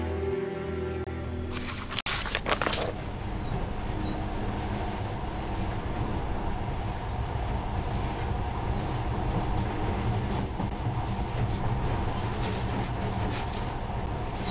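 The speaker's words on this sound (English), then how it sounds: "In the past, trains were ordinary things, but now, this monorail seems magic, doesn't it?" A monorail ride in the Metro Last Light video game, a steady loud rumble of the train running along its track with a sharp clank near the start, continuous throughout with no talk.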